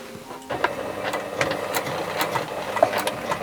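A sewing machine stitches a short straight seam on a kimono-fabric bag, a close, rapid mechanical chatter with quick needle strikes running without a break for a few seconds.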